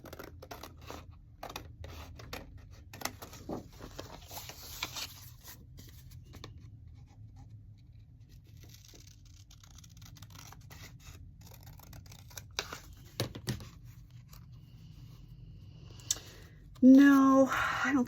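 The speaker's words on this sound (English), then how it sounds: "Let's cut this out." Scissors cutting paper in a series of soft, quiet snips close by, mostly in the first few seconds, with a brief louder rustle near the end.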